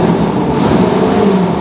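Vintage car engine revving at a classic car rally on the Félix Guichard circuit in Sainte-Anne, a loud, close, throaty roar that stays sustained throughout the short burst.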